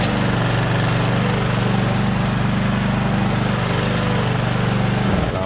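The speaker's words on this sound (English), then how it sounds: "Lawnmower shut off." A lawnmower engine runs steadily and loudly up close, its low droning hum continuous for about five seconds before cutting out abruptly near the end.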